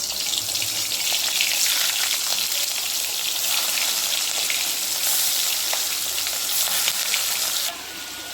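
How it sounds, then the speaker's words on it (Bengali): Prawns frying in hot oil in a wok for a prawn malai curry, a loud, steady broadband sizzle running throughout with no talk, dropping slightly near the end. "চিংড়ি মাছগুলো এবার কড়াইতে তেল গরম হয়ে গেছে, এবার এক এক করে দিই"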